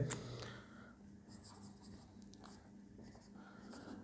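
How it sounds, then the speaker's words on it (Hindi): Pen writing out a maths solution for an integrals problem on an ellipse, a faint scratchy stroking close by with light intermittent taps over quiet room noise. "सलूशन लिख देते हैं सबसे पहले"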